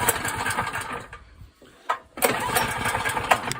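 A portable Honda generator's small engine catches and runs with a buzzing, sewing-machine-like rattle, briefly dropping off, sputtering, then picking back up to a steady close, loud run.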